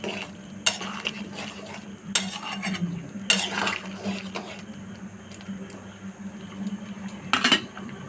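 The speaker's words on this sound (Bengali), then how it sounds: "পনিরগুলো দিয়ে 3-4 মিনিট ফুটিয়ে নেব" A spoon stirs paneer into simmering gravy in a pot for chana paneer, with repeated metallic clinks and scrapes over a low, steady bubbling hum.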